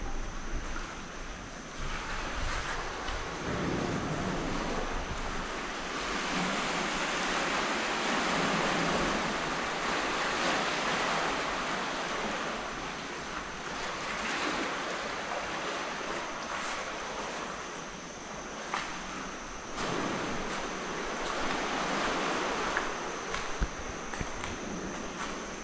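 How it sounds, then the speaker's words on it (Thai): Ocean waves wash continuously near a bridge at night, a steady broadband roar of surf with gentle swells and some wind noise, no voices present. "มันมีเสียงคลื่น"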